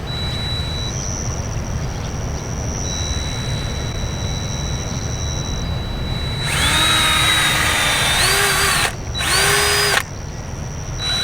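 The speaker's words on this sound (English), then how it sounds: "I got the drill reel all rigged up" A steady mechanical whir of a power drill rigged to spin a fishing reel drones close by, then rises to a higher, strained whine in bursts, cutting off briefly before resuming.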